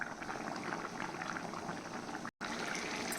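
Chicken curry boiling in a pot after water has been added, a steady, dense bubbling that runs throughout with one brief gap of silence near the end.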